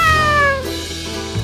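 A cat meows in a short, clear, close-up call with a falling pitch, heard alone as a sound effect with no talking.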